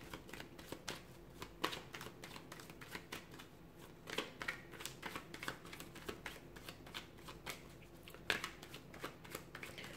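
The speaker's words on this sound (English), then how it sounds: "let's give the cards a shuffle" Tarot cards being shuffled by hand, a steady run of crisp riffling flutters and soft slaps with sharper snaps near the middle and end, close and fairly quiet, with no talking.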